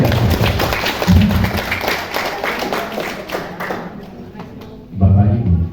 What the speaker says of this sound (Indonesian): Tepuk tangan, keren.